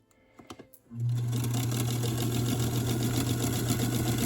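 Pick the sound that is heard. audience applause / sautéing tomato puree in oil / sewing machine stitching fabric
sewing machine stitching fabric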